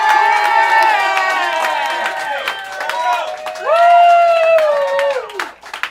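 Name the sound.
audience clapping and cheering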